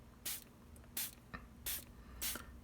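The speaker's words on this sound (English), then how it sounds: "I will take the bottle, a spray bottle, and I will spray some water on the paper" Four quick hissing spritzes from a spray bottle misting water onto a paper towel holding seeds, evenly spaced, close and fairly quiet, with faint background hum between them.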